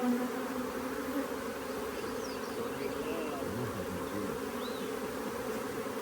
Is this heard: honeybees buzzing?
yes